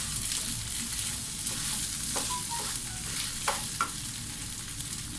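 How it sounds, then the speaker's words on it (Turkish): Street-style rice pilaf stirred in a pan while frying, with a steady sizzle beneath a few scraping stirs of the spoon, close and moderately loud, no talking. "Ben şimdi bir taraftan hemen yine karıştırmaya devam ediyorum."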